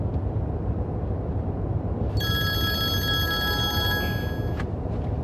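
Phone ringing with an incoming call, a bright electronic ringtone lasting about two and a half seconds over a loud rumbling background of road or engine noise.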